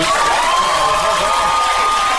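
A political event crowd claps and cheers steadily, a loud, dense wash of applause with shouts mixed in and no break throughout.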